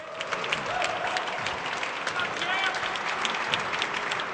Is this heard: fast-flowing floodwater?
no